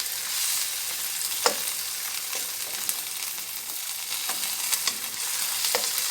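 Shrimp paste sizzles and fries steadily in a pan, a constant close crackle broken by occasional scrapes and clinks of stirring.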